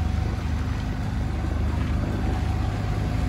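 A used Kubota L3408 tractor fitted with a loader bucket runs with its engine idling, giving off a steady, close, low diesel drone that holds an even level throughout with no pauses.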